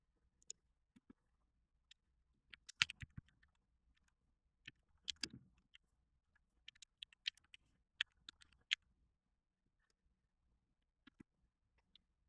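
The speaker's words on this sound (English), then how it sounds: "Typing of doom and despair" Sparse typing on a computer keyboard, scattered clicks and short bursts of keystrokes with long quiet gaps between them, close and faint.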